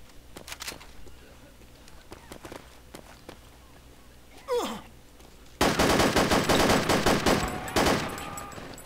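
Gunfire in the military shooter game Project Reality: scattered single shots and footsteps at first, then a dense burst of rapid automatic fire and overlapping shots, loud and close.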